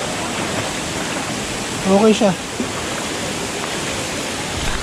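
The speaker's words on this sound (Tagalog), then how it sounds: "So, yung Tumutulo Falls ito." Tumutulo Falls in Bulacan pours in a steady, broad rushing hiss, continuous and fairly loud, with a person briefly speaking over it midway.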